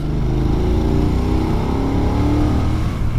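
A BMW F900R 2020 motorcycle engine pulls steadily under load in fourth gear from 2,500 rpm, a deep continuous throbbing drone that rises gradually in pitch.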